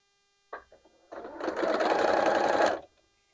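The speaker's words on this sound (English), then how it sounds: "So now we can go to the machine that all the seams are nested and they are ready for sewing." After a few brief clicks of handling, a sewing machine stitches quilt seams in one steady, fast, close burst of whirring needle rhythm lasting about a second and a half before stopping.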